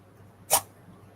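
A single short, sharp sneeze, close and alone against a quiet room hum.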